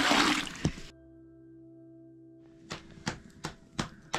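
Water runs from a tap at a mountain trek campsite in the Har Ki Dun valley, Uttarakhand, starting as a loud gush, then giving way to a low hum before a series of splashing, sloshing bursts as the vessel fills.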